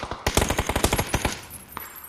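Rapid gunfire in a zombies-mode video game match during a tournament final, a loud rhythmic burst of about a dozen shots over roughly a second, followed by a brief pause and one more isolated shot.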